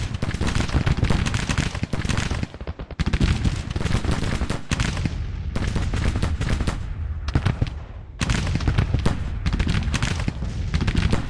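Dense, continuous gunfire fills a battle in the Civil War strategy game Grand Tactician, with overlapping musket volleys and rolling cracks that come in loud sustained bursts broken by brief near-silent gaps.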